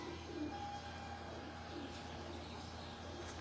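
Faint cooing from pigeons on a Lahore rooftop drifts over steady outdoor ambience, with a few soft bird calls spread across the stretch.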